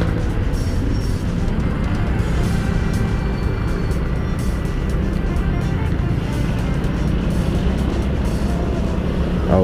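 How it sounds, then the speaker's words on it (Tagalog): Heavy traffic of many vehicles passes outside during quarantine restrictions, heard from a motorcycle ride as a loud, continuous engine and road roar with wind, unbroken throughout and without speech. "Ang dami pa rin sasakyan sa labas kahit MECQ."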